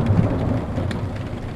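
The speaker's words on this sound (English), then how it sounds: "the last day of February, we're getting a thunderstorm." Thunder rolls low and steady through a February thunderstorm in Michigan, with rain hissing continuously on surfaces, sustained and fairly loud with no talking.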